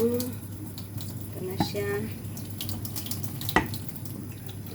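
Running tap water rinses food in a kitchen sink, a steady splashing flow with a few clinks. A person talks briefly over it.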